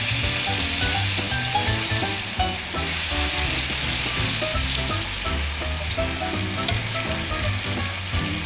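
Chicken pieces seasoned with salt and pepper fry in a pan on a stovetop, a steady, loud, dense sizzle and crackle that continues without pause and with no voices.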